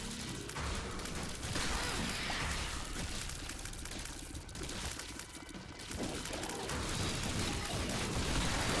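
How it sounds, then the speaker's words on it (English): Dense, continuous barrage of game effects from The Binding of Isaac, with explosions, shots and lasers piling on top of each other at steady high loudness through the whole stretch, with no quiet gaps. "Just explosions and monstros and shots and lasers and money and everything."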